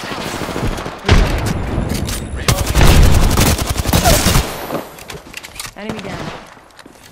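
Bursts of automatic gunfire in an Apex Legends match, with dense rapid shots and booming impacts building to a loud sustained barrage before tapering off, while a game voice calls out.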